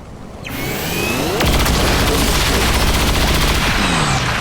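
A soldier firing at an Andromedon in XCOM: a sustained, dense burst of gunfire with a whooshing onset and a metallic rattling texture, loud and close, without talk.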